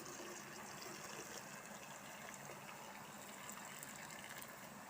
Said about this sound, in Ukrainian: ми беремо і заливаємо в банку з черешнями кип'яток